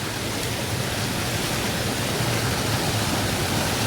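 A waterfall near Theni roars down over rocks, a dense, constant wash of rushing water, loud and close, with no voices over it.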